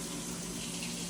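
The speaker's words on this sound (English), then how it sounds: "I'm going to run some hot water here" Hot water running from a kitchen tap in a steady, close, continuous rush with no break and no voices over it.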